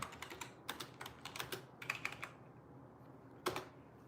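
Keys clatter on a computer keyboard in quick irregular bursts with short gaps, followed by a pause and one last sharp keystroke; close but fairly quiet.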